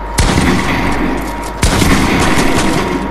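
Gunfire in the Fortnite video game: two sharp, loud shots roughly a second and a half apart, each followed by a rattling decaying tail, close and alone without talk.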